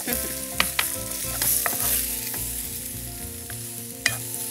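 Onion and tomato sauté in a pan as the base for a beef curry, a steady close sizzle and frying hiss broken by a few sharp clicks of stirring, with no talk.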